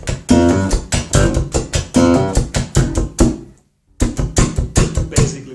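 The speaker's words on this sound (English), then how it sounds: "the tapping is used for creating just dead notes in between the actual bass drum or snare drum notes" Slap bass played with percussive tapped dead notes, a quick rhythmic run of muted plucks and thumps, close and loud, breaking into a short silence before the pattern resumes.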